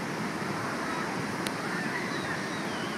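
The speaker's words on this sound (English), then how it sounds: "Gorgeous, gorgeous day at the beach." Surf washes in at Ocean Beach on a clear December day. It sounds like a continuous, even roar of breaking waves, with some wind buffeting the microphone and one brief sharp tick partway through.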